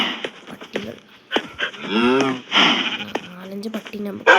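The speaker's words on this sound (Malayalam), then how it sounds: "കുറേ ഷീപ്പ് ഉണ്ട്" Sheep bleating in a survival video game, several short cries rising and falling at close range, mixed with game effects and someone talking over them.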